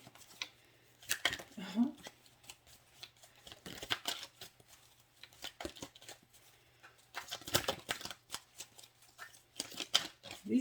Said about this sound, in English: cards are a little big and they're hard to shuffle